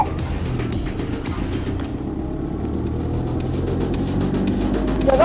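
Race car engine running steadily on a track as the driver sets off, a continuous low rumble that builds slightly toward the end, close and loud with no talk.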